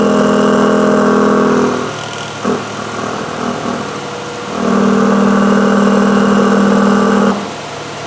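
A Mazda RX8 engine idles loudly with a throaty exhaust note, dropping quieter for a couple of seconds before roaring steadily again, then easing off.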